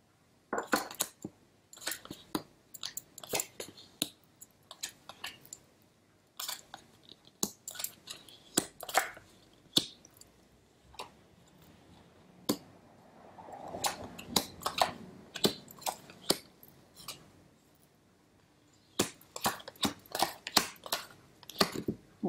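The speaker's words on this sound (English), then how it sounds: "I'll give it another shuffle and lay them out in the mini gram tableau" Tarot cards shuffled and dealt out in a spread: irregular bursts of crisp riffling, flicks and soft slaps of card stock on a table, close up and fairly quiet, with no voices.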